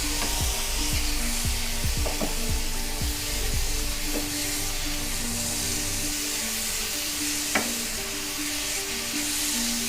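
Carrot halwa cooking in ghee, stirred in a pan: a continuous loud sizzle with scraping spoon strokes and a few clinks, close up and without speech.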